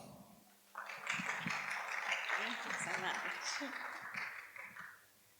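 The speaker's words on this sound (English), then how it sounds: "I welcome you to give her a big round of applause" An audience at an alternative-protein conference breaks into applause for a speaker, a dense wash of clapping that swells and then fades after several seconds, with a voice briefly heard beneath it.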